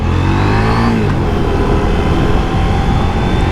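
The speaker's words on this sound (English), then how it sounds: "So I'll see if I can show you this rev limiter." A KTM 790 Duke motorcycle engine, A2 restricted, revs hard with a sustained loud, near drone, its pitch bouncing against the rev limiter before settling into steady high-rpm roar for the rest of the stretch.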